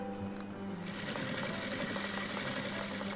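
A sewing machine runs steadily while stitching a blouse in reverse, a fast even mechanical whir with rhythmic needle clatter that picks up after a brief start, close and alone.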